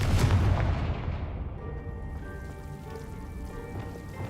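Confringo fire spell cast in Hogwarts Legacy, a loud fiery blast that bursts and then decays into a crackling, ringing tail.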